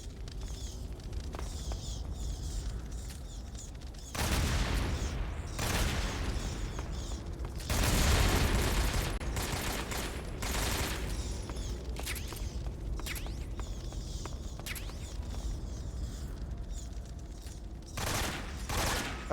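Gunfire and bursts of shooting at barrels in a Metal Gear stealth game, sustained rattling volleys with louder bursts near the four- and eight-second marks and again near the end, set against a steady game ambience.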